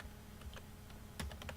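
Keystrokes on a computer keyboard, a sparse run of soft clicks with a firmer cluster near the end, close and fairly quiet with no talking.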